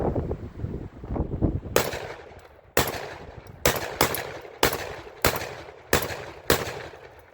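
A Panzer EG200 shotgun fires Federal 1330 1 1/4 ounce shells in a rapid string of about seven loud, sharp blasts roughly one second apart, each with a ringing decay, following some handling noise.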